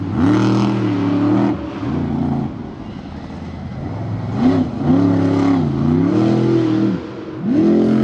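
Monster truck engine at an Indy show, revving in repeated loud roaring surges that rise and fall in pitch, with brief dips between pulls and no voices.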